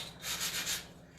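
Sandpaper rubs back and forth over small wooden pieces for a hanging planter, a close, soft rasping in a few quick strokes with no talk.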